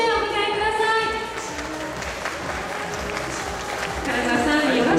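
Audience at a flower-arranging demonstration event clapping to welcome a commentator, a steady mid-level wash of applause under a sustained musical tone, swelling again near the end.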